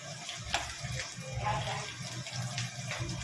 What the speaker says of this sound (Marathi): तर आता मस्त कडक कडक तेलामध्ये हे पकोडे आपण तळून घेऊया।